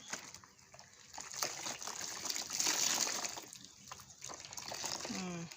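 Water splashes and gushes steadily as vegetables are rinsed in clean water in a basin while making Thai fermented vegetables (som phak). Speech is present over the running water.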